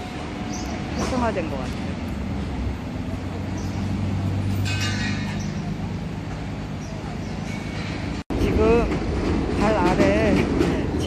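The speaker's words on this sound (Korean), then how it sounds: "지하철 지나가는 소리가 다 들려요." A subway train rumbles beneath a busy SoHo street in Manhattan, a steady low roar with rattling clatter under street noise, while a person talks over it.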